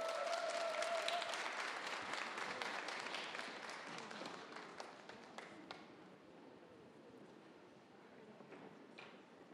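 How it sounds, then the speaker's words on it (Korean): Audience applause welcomes a singer-songwriter to the stage at a small autumn talk-and-concert event. The clapping is faint and distant, a steady patter that slowly thins out over several seconds. "큰 박수 부탁드리겠습니다."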